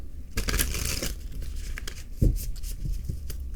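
Papery crinkling and riffling of tarot cards being handled, a burst of shuffling at the start, then lighter rustles and a sharp tap midway.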